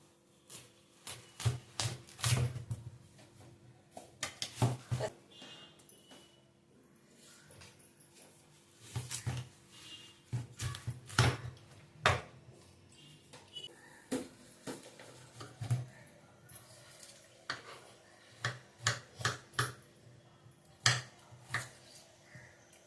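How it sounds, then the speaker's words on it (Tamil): A knife cuts through watermelon on a board with repeated crisp chops and taps in uneven clusters, close and fairly quiet, with no voice. "வாட்டர் மிலன் வந்து ஃபர்ஸ்ட் நம்ம கட் பண்ணிக்கலாங்க"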